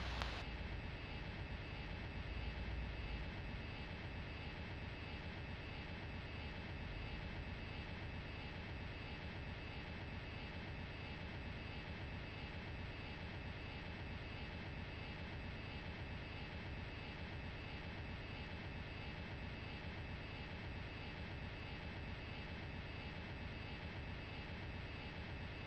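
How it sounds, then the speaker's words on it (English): A helicopter far off in the Arma video game, a steady distant engine drone holding evenly for the whole stretch with no talk over it. "We've got another helicopter far out to the southeast, just dipping behind the hill there."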